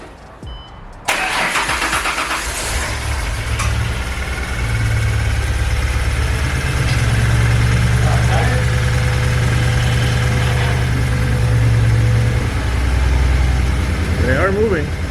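A freshly rebuilt car engine cranks briefly, then catches and settles into a loud, steady idle with a deep low rumble lasting to the end, close to the microphone, with faint background sounds.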